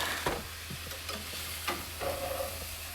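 Eggs being scrambled in a sizzling frying pan, with a spatula scraping and stirring in several distinct strokes over a steady hiss.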